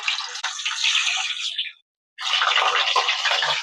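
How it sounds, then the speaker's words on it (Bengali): Paneer cubes fry in oil in a wok with a steady, close, bright sizzle that breaks off for a moment, then starts again at full strength. No one speaks. "আমি পনিরটা ভেজে নেবো"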